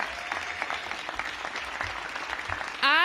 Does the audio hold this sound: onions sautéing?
no